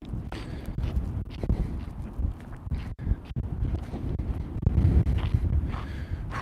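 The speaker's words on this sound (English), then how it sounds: "Windy, windy, windy, windy." Wind gusts buffet an outdoor microphone with low, uneven rumbling and thumps that rise and fall throughout, fairly loud and with no talking.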